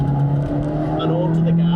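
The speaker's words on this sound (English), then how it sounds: "the old heel and toe into second, quick dart left, quick dart right" Abarth 124 Spider engine revving as the driver heel-and-toes a downshift into second gear, a loud, steady engine drone close up inside the car with a voice talking over it.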